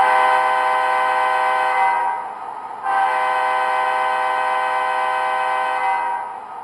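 Steady whirring drone of an MTH model SD40-2 diesel locomotive in Wisconsin & Southern livery running on track, loud and continuous with a brief dip partway through, and a horn-like tone sounding alone.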